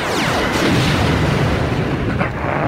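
A loud, sustained cartoon explosion as a shot destroys a bridge, a dense roaring blast with rumbling debris that fills the whole moment, no voices over it.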